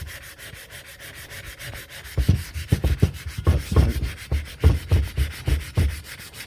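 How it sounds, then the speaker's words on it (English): 36 grit top roll emery cloth is worked by hand over a car brake disc in rhythmic, gritty back-and-forth rasping strokes, close and steady, beginning softly and growing firmer. "I use some 36 grit emery cloth, top roll emery cloth."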